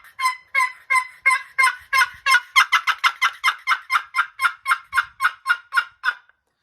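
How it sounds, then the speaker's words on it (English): A wild turkey cackles in a rapid series of about twenty sharp, close calls that speed up and then gradually slow before stopping. "cackle is pretty much whenever they're flying off of a roost or something spooks them, they cackle"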